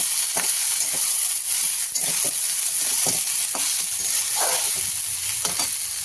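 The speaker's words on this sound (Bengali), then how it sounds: "পেঁয়াজ ভাজা হয়ে গেছে, এবার এখানে আমি চাল কুমড়ো কেটে রেখেছি সেইগুলো এর মধ্যে দিয়ে দেবো" Chopped ash gourd hits browned onions in a hot pan and sizzles steadily, with a continuous hiss broken by scraping stirs and clinks of the spatula, close and fairly loud.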